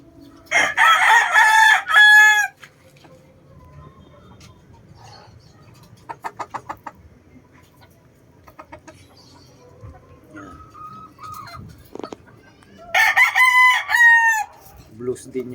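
A Blues gamefowl rooster crows loudly twice, once at the start and again near the end, with softer clucks, scattered bird calls and faint background noise in between.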